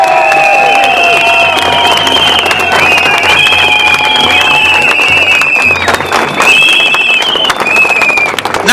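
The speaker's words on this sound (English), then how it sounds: "Let's give a great big round of applause to those scientists." A crowd applauds and cheers at an outdoor anti-vaccine demonstration in Newcastle: a loud, dense, steady wash of clapping with high whistle-like tones running through it, and no clear speech on top.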